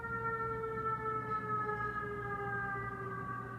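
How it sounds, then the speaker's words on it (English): Sirens wail steadily outside, several sustained rising and falling tones layered over a low background hum, continuous and moderately loud throughout. "Hold on, the sirens"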